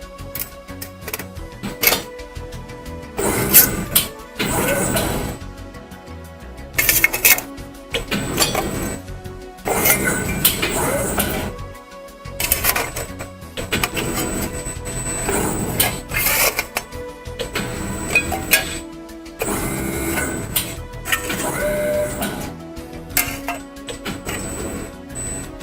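A Safan electric precision press brake bending a metal part, heard as busy whirring servo motion and repeated mechanical clatter in uneven bursts, with tonal motor whines rising and falling over roughly half a minute, no speech.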